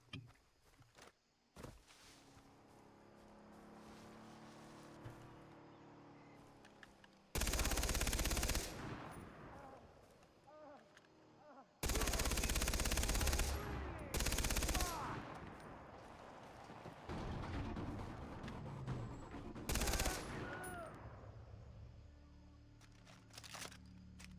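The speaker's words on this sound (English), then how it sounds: "Just trying to waste bullets right now, really." Far Cry 3 gameplay with loud bursts of automatic gunfire, some long and sustained, others short, separated by quieter stretches of movement and rustling, with a voice now and then.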